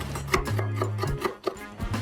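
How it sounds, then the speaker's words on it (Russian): A kitchen knife chops green onions on a cutting board: quick, regular taps, about a dozen crisp strikes at close range, over a low steady hum. "Режу зеленый лук."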